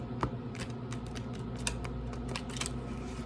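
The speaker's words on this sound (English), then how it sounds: "I am just going to be shuffling the deck really quick" A deck of tarot cards being shuffled gives soft, quick flicks and light slaps in uneven bursts, close and fairly quiet, with no voice.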